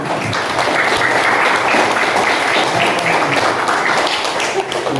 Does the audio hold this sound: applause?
yes